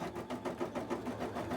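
Domestic sewing machine stitching a cosplay piece, a quiet, close, rapid rhythmic whirring and tapping running steadily throughout.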